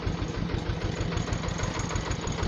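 A tractor engine runs steadily and close by, with a continuous rough mid-pitched drone and a slight knocking pulse.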